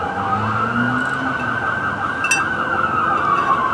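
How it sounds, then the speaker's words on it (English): An ambulance siren wails continuously and loudly, its rising and falling tone cutting through steady traffic noise nearby. "There's the CARE ambulance service again."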